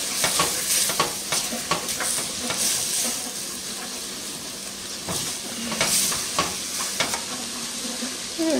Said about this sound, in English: Next, I'm adding some thyme. Stir this a little more.